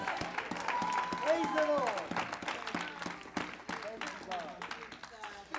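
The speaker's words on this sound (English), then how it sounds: "Would you give your awesome God a hand clap of praise?" A church congregation claps in praise during a sermon, steady, dense applause filling the room throughout, with voices shouting and speaking over the clapping.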